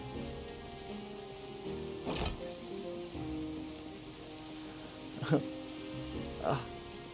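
Steady rainfall in the zombie survival game Project Zomboid, a continuous broadband hiss with a few louder splashy bursts, heard alone without talk.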